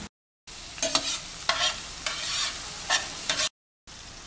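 Onion sautés in butter and oil in a pan, a steady sizzle with a few bursts of stirring scrapes, broken by brief silent cuts.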